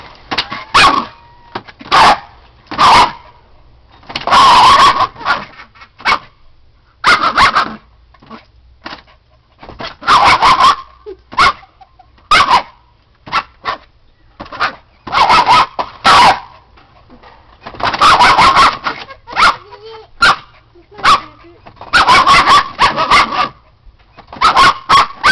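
A dog barks loudly and close while attacking a wall, firing sharp barks in irregular bursts and flurries with short quiet gaps between them, along with occasional yips and whines throughout.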